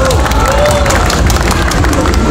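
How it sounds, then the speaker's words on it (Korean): Audience at an indoor auto salon event applauding, a dense, continuous wash of clapping and crowd noise, loud and close. "여러분 박수 부탁드리겠습니다."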